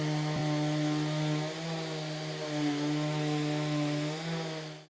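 A Rutlands electric sander motor runs steadily with a loud, droning hum and a slight strain, then cuts off abruptly near the end.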